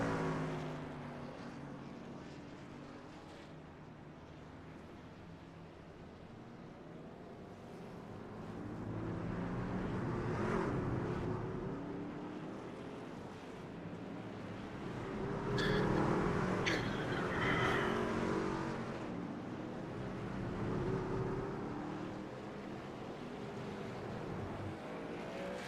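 Race truck engines droning down pit road at North Wilkesboro in iRacing, a steady layered motor hum that swells and fades as vehicles pass, fairly quiet throughout.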